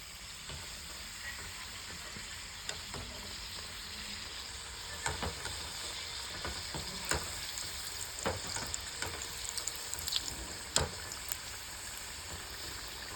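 Continuous sizzling of samosas deep-frying in oil, with scattered crackles and occasional stirring clatter, close by and without talk.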